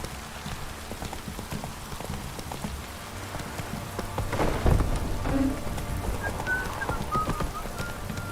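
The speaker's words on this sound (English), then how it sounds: "If it don't stop raining, my arse will rot off." Steady rain falls in The Witcher 3: Wild Hunt, a constant close hiss with horse hooves clopping beneath and a swell of heavier noise midway.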